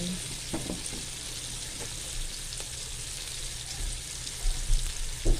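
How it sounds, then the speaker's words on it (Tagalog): Tomatoes fry in a pan with a steady, dense sizzle while being stirred, with a few soft scraping knocks of the utensil, loudest near the end. "Haluin lang natin hanggang sa maluto ang ating kamatis."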